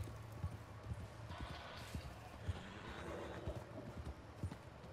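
Horse hooves clip-clop steadily in Red Dead Redemption 2, with a short neigh and whinny rising over faint ambient background, quiet and moderately close.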